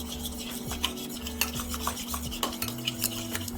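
Burger sauce seasoned with black pepper being stirred in a bowl, a steady close scraping and rubbing of utensil against the dish with small clinks, no talking over it.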